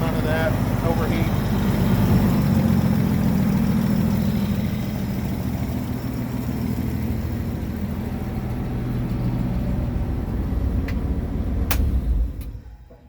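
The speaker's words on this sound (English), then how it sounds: "Engine really just purrs. Doesn't smoke, rattle, none of that." An old 1951 Chevy 6400 truck engine idles with a low, steady rumble, the throb holding even before tapering off at the end.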